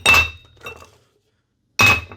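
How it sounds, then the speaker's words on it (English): Ice cubes dropped into a glass for a whiskey cocktail, giving two bright clinking bursts with a scatter of smaller clinks and a silent gap between them. "Start with our beautiful ice cubes."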